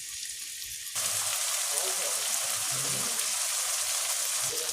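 Potatoes and egg frying in oil in a pan, giving a soft, steady sizzle that begins after a quieter first second, with occasional stirring noises; the whole thing is faint.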